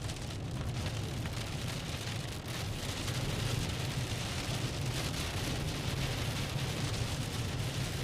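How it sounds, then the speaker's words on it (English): Heavy rain pours steadily during a storm in Iowa, a dense continuous hiss with deep low rumbles of thunder rolling beneath it throughout. "Even through the rain, you can hear the thunder."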